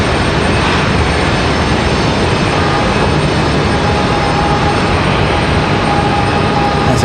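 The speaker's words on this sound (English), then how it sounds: "Got American Airlines up next for departure" An American Airlines jet departing from Raleigh-Durham International Airport roars loud and continuous at full takeoff power, a broad steady rumble and rush with a faint whine on top.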